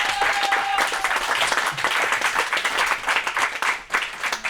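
A church congregation breaks into sustained applause, a dense wash of many hands clapping together at moderate distance, with a voice briefly audible over it.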